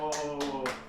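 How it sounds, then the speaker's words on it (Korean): Three quick, close hand claps ring out in an even rhythm, the short sharp bursts standing alone without talk. "박수."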